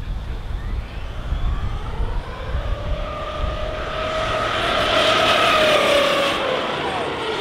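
An ARRMA Kraton 8S RC car with a Max5 800kv motor makes a speed pass, its high electric motor whine rising and sweeping in pitch as it nears, peaking loudly toward the end over steady outdoor rumble.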